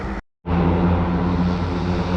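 A low, steady airplane engine drone rumbles loud and close to a sailboat in Fiji, cutting out for a moment before resuming at full, even strength.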